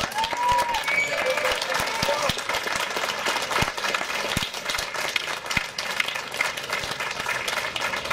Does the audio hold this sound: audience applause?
yes